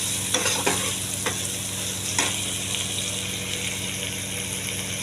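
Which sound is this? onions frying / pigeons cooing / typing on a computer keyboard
onions frying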